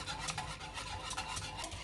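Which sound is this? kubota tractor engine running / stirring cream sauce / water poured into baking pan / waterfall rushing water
stirring cream sauce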